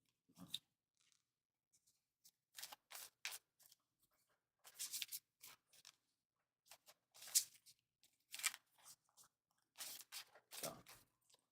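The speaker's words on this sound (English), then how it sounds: "Just gonna keep shuffling." Tarot cards are shuffled by hand in quiet, irregular bursts of soft riffling and rubbing, close up with short silent pauses between.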